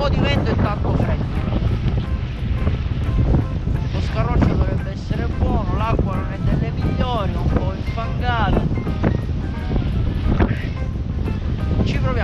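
Cold wind blows across the sea around a small boat out cuttlefish fishing in February, a constant gusty roar buffeting the microphone while voices talk over it.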